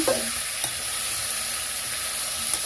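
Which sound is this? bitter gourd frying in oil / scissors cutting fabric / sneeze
bitter gourd frying in oil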